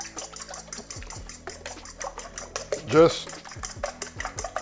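A fork whisks four raw eggs in a bowl for French-style scrambled eggs. The tines tick rapidly and steadily against the bowl, with one brief word spoken partway through.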